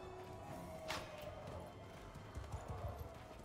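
Horse hooves clip-clop steadily in the medieval battle game Mount and Blade 2 Bannerlord, a quiet continuous trot with soft ambient noise underneath.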